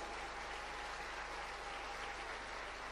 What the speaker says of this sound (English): I hear the applause.